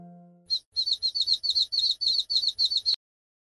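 A cartoon baby bird chirps in a kids' egg-hatching game, a rapid run of about twelve bright, evenly spaced tweets, clear and close, following a brief low tone.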